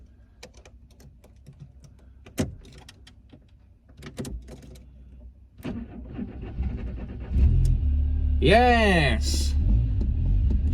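A Renault Clio engine cranks and catches, settling into a loud steady idle after some clicks and handling noises, with a person speaking briefly.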